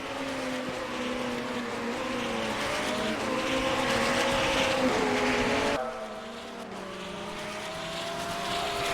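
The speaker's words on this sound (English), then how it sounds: "Our second place car is Giacomo Artori." Hypercar race cars scream past at Portimão Circuit in a racing series event, sustained high engine notes rising and falling through gear changes, with an abrupt drop in intensity as the cars pull away.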